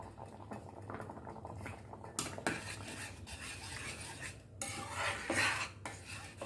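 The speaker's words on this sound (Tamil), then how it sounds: "ரவை நல்லா கொதிக்கு." Bubbling of a thick semolina and coconut milk mixture boiling in a pot on low heat, with scraping and clinks of a spoon against the pan throughout, no voices.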